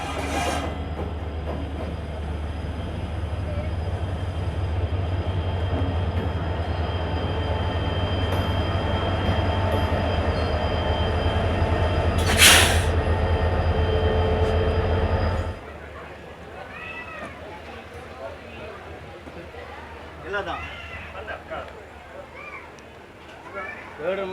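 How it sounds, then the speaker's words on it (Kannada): The Mysuru Talguppa Express, hauled by a WDP4 diesel locomotive, rolls into a platform with a loud, steady rumble of wheels and engine and a brief screech midway. The noise then drops away, and someone talks over it. "ಕರೆಕ್ಟಾಗಿ ಟೆನ್ ಫಾರ್ಟಿ ಫೈವ್ ಅಷ್ಟೊತ್ತಿಗೆ ಟ್ರೈನ್ ಪ್ಲ್ಯಾಟ್ಫಾರ್ಮ್ ಎಂಟರ್ ಆಯಿತು"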